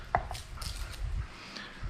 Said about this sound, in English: I don't know why I cut all this garlic off